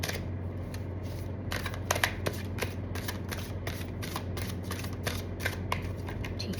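Tarot cards being shuffled for a reading, a steady run of soft riffling and flicking with sharper snaps near the middle, close and alone over a low room hum.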